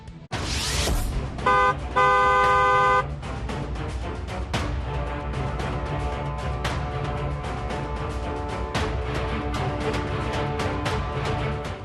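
A car horn blasts twice in bursts near the start, loud and close, and then a dense, busy din takes over and continues to the end.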